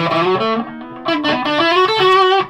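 Electric guitar played through an amplifier's distorted dirty channel with no reverb, a close, gritty sequence of sustained notes and chord changes.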